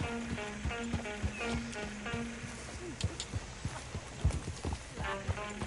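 A horse-drawn coach in Red Dead Redemption II rolls along with steady, rhythmic hooves clip-clopping close by and a low rumble beneath, continuing throughout.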